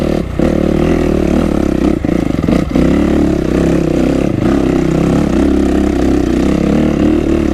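Kawasaki KX250 dirt bike engine lugging in third gear, a loud, steady low-pitched drone close by with brief dips and rough clattering pulses early on, then holding an even labored rumble.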